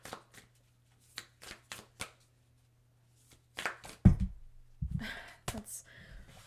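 Moonology oracle cards shuffled and handled at close range, a series of quick crisp card flicks and slaps with pauses between, then a denser run of riffling and a louder tap, with faint whispering.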